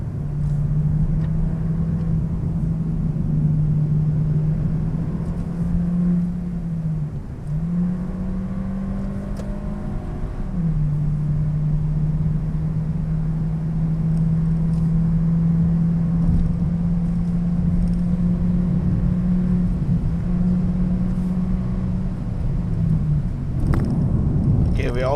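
Volkswagen Golf 1.4 TSI R-Line driving on a road: a steady engine drone and tyre rumble holds throughout, with a brief dip in pitch around a gear change, and soft road noise continuing without a break.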